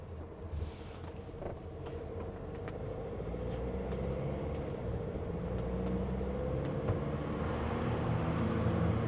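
Car cabin while driving on a road, with a steady loud low rumble of engine and tyre noise that grows slightly over the stretch, with no talking.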